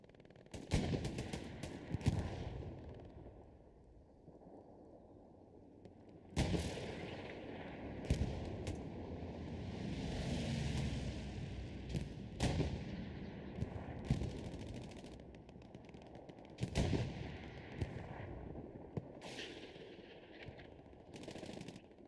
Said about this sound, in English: There's a tank fight going on somewhere behind us right now. I can hear both of those tanks firing.